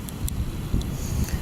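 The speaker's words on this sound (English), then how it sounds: "Sorry about the wind." Steady wind buffeting the microphone outdoors during metal detecting, a low blustery rumble throughout with no one speaking.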